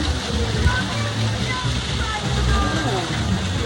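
Water flows steadily over rock at the mouth of a cave, a continuous rushing wash that stays fairly loud and close throughout.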